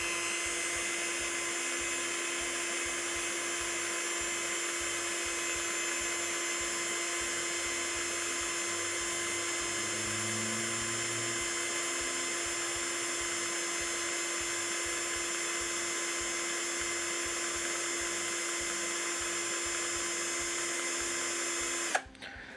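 A drill spins steadily to twist wire held by a trouser hanger for a Clapton coil, giving a constant high whine that runs for about twenty seconds before stopping abruptly.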